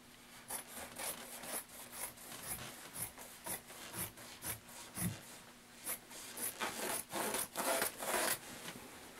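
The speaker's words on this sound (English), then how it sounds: "I'm going to cut away the excess." Scissors cutting away excess paper or fabric from a sewing pattern, close and quiet, with repeated irregular snipping and rubbing strokes, no talking.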